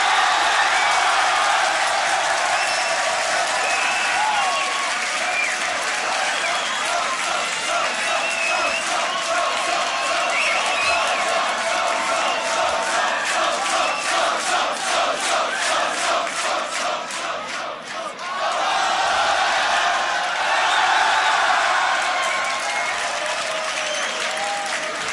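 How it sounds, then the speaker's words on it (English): A large crowd at a beatbox battle roars with cheering, whoops and applause, loud and continuous throughout, dipping briefly near the end before swelling again. "Make some noise for Beatness as well, coming back, defending his championship"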